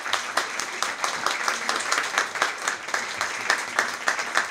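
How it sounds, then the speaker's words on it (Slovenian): Audience at a live talk event with the Prevc ski-jumping brothers applauding, a moderate crowd clapping with an uneven, rhythmic pulse, steady and fairly close throughout. "Hvala Domnu, daj maj aplavz."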